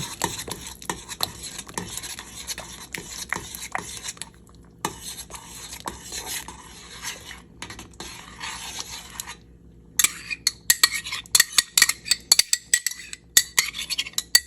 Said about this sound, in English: I'm going to stir it as it comes in.